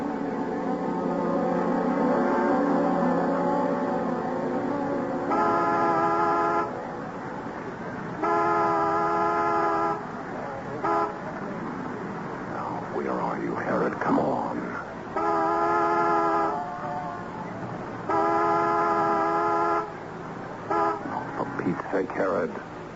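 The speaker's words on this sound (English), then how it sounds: "honk the horn as a reminder. Make it 2 long, 1 short" A car horn honks in long and short blasts, repeating several times over steady road noise, with voices talking between the honks.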